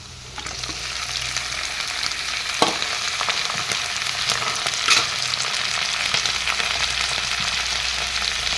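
Goroi fish pieces fry with softened onions in a pan, producing a loud, dense sizzle that swells once the fish goes in and holds steadily, with occasional soft stirring knocks.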